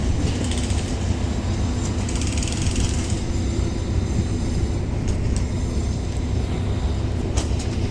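An ordinary passenger train stands at Photharam station in Thailand, its steady mechanical rumble and clanking running loud and continuous throughout, with faint metallic squeals near the end.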